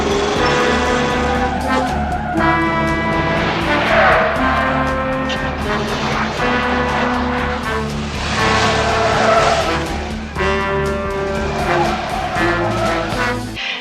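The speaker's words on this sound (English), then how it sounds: "Allen, the supervisor's getting in his car and is apparently going to follow." A supervisor's car pulling away to follow another vehicle in a police drama, engine revving loudly with tire squeal and skidding throughout, under a musical score.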